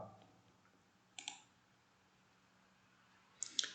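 Two short clusters of computer mouse clicks, one near the middle and a double click toward the end, quiet and close over a faint room hum, with no talk.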